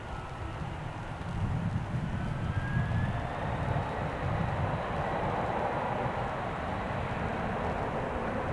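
An airliner takes off at night at Dallas/Fort Worth Airport without using the full runway, a deep, swelling jet roar with a faint rising whine that stays loud and steady.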